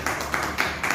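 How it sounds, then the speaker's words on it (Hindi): An audience clapping briefly in scattered, uneven claps, moderately loud and close, over a short burst. "एक बार उसके लिए ताली हो जाए"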